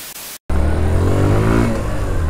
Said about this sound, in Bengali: আবার মোটরসাইকেলে উঠে গেছি আর রওনা হয়ে গেছি